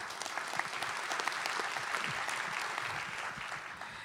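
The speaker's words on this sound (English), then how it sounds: "So let's give them another round of applause." An audience at a property workshop panel discussion gives the panel speakers a round of applause, a steady, moderately loud patter of many hands clapping with a few crisper claps standing out.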